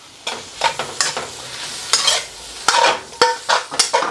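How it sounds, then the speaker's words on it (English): Noodles are tossed through Szechuan chilli garlic oil in a pan, giving bursts of scraping, hissing stir-fry sizzle in an irregular rhythm, close by and with no voices. "I'm going to flick them through the oil. So it's going to get nicely coated"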